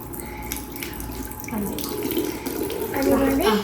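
Tap water runs steadily into a sink during face washing, splashing close by with shifting gurgles as hands move under the stream.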